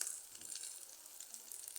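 Rice omelette batter sizzles steadily in a hot pan just after pouring, a continuous close crackling hiss with fine popping, alone and without voices.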